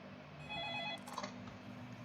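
A telephone rings inside a house in a horror video game, a steady electronic ring lasting about a second before fading into a quieter tone.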